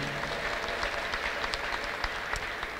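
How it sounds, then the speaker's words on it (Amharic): Church congregation clapping steadily and loudly throughout, a dense continuous wash of applause with scattered sharp claps, no clear voices standing out. "ዛሬ እልልታችሁ ጭብጨባችሁ የሚቀረው ነገር አለ ጨምሩበት"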